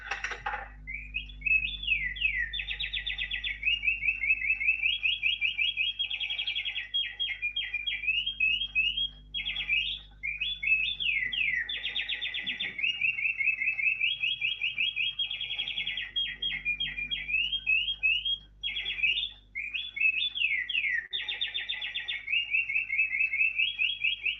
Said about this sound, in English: So here's my old English penny going in the slot now, and it's with a bird song.